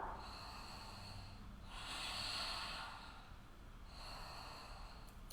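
Slow, deep breaths drawn in and out through the nose during a home yoga practice, close and fairly quiet, with three long airy exhalations spread evenly over a few seconds.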